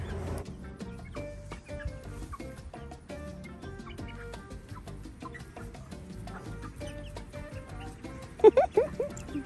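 Chickens cluck and chatter nearby in short, uneven bursts, with a few louder squawks toward the end and no talking.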